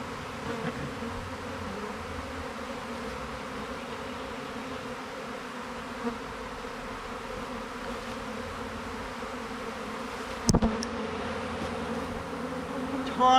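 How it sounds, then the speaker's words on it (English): Honey bees buzz in a steady, dense drone around an open hive as they are swept toward a funnel, a continuous insect hum close by with a brief sharp knock near the end. "all these bees are going to get swept down into here"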